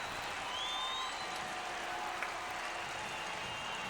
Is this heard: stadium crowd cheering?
yes